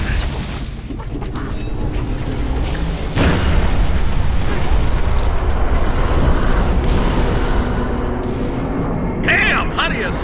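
Artillery shells from a fire mission crash down in Halo: Reach, a loud continuous barrage of booming explosions with a big blast near the three-second mark, while voices talk over the bombardment.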